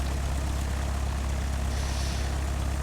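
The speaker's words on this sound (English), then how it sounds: "We're in a small plane" Steady drone of a small propeller plane's engine heard from inside the cabin, a constant low rumble with broadband noise throughout and no voices.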